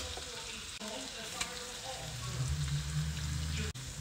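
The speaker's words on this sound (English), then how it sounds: "Now that we have our garlic butter base, I'm just gonna add in my fish" Fish pieces frying in a garlic butter base in a pan; a soft sizzle that swells and grows louder as the fish goes in, with a faint clink midway.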